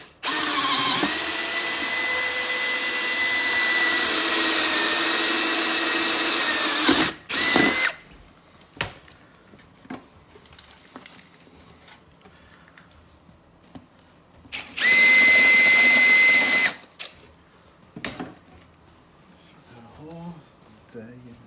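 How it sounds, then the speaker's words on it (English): A power drill fitted with a 1-inch wood bit bores through an HMWPE skid plate for a 2019 Can-Am Outlander Max XT, with two loud, sustained whining runs of several seconds each, separated by quiet handling clatter. "we got a 1-inch wood bit on a drill,"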